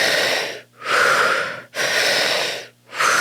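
Forceful rapid breathwork, done as energizing breathing, comes in loud, close bursts of air about once a second, with short gaps between them.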